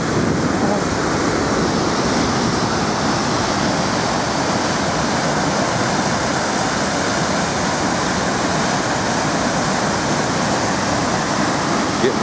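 Heavy water rushing at the 4 Mile Dam on the Thunder Bay River, Michigan, a constant close roar of churning flow with some wind buffeting the microphone.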